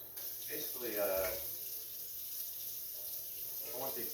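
Tap water runs steadily into a kitchen sink while raw beef eye of round, velvet-marinated for lo mein, is rinsed under it, a constant close wash with a few splashy surges.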